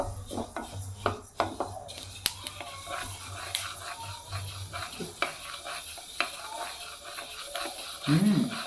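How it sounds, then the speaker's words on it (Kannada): Flax seeds dry-roast in a pan, giving scattered small crackles and pops alongside stirring scrapes against the metal, close and quiet, with a brief louder scrape near the end. "ನೋಡಿ ಚಟಪಟ ಅಂತ ಸಿಡಿಲಿಕ್ಕೆ ಸ್ಟಾರ್ಟ್ ಆಗಿದೆ ಸೌಂಡ್ ಆಗ್ತಾ ಇದೆ"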